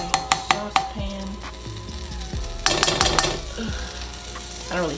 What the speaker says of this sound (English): now I'm just gonna be adding some butter to my saucepan